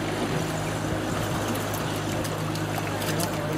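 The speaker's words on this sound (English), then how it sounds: "that engine sounds like it's working hard" A boat engine labours steadily on a windy day over a strong stream, a continuous low droning hum with water and wind noise washing over it, unbroken throughout.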